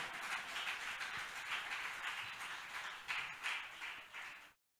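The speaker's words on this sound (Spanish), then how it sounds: "Aplauda fuerte al Rey de Reyes y Señor de Señores" A church congregation applauds loudly and steadily, a dense wash of many hands clapping together at close range, swelling in places before cutting off abruptly.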